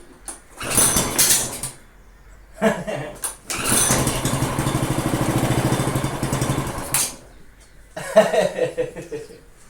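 A lawn mower engine rigged as an outboard motor, missing its throttle handle, cranks and catches with sputtering bursts, then runs steadily for several seconds before cutting out and restarting briefly, loud and close.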